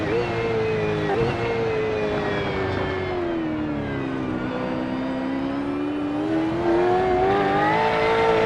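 V8 race cars in iRacing at Snetterton, heard from an onboard view: a loud, continuous engine drone whose pitch sags and climbs with throttle, steady and close throughout, with no talk.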